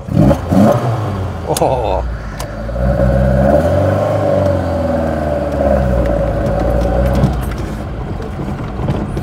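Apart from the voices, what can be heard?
Fiat 131 Mirafiori induction roar on twin Dell'Orto carburettors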